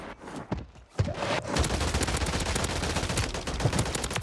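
The player's weapon in a shooter video game fires, starting with a few scattered shots, then a loud, continuous barrage of rapid gunfire sustained close up to the end.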